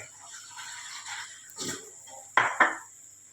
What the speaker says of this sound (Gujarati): આ રીતે બધા જ મસાલાના બટાકાના માવા સાથે સંપૂર્ણ મિક્સ કરી દેવાના.